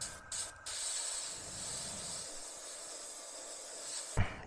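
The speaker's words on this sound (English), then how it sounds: "So just spray down the panel" A close airbrush hisses steadily as it lays paint on a Tamiya M1A2 Abrams model panel, with a couple of brief breaks near the start and a small knock at the end.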